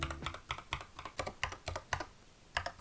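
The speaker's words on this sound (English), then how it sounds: "the TH80X's flamingo switches sound like this" Typing on an Epomaker TH80-X mechanical keyboard fitted with Flamingo switches, a close, steady run of clacky keystrokes at an even pace, heard alone with no talk.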